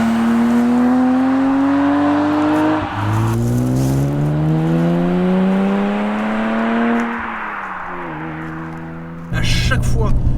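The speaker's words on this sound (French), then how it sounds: "le moteur qui va s'envoyer dans les tours et on commence à enrouler les premiers virages" BMW Z3 M Coupé engine revving hard while driving through bends, a loud in-car drone that climbs in pitch, drops at a gear change, climbs again, then falls off before a rough burst at the end.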